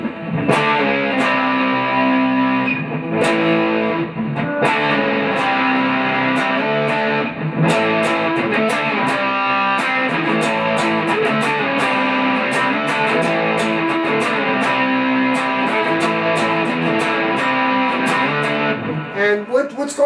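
Distorted electric guitar power chords in the style of a song's ending, played loud and steady with sharp repeated picked attacks over about twenty seconds.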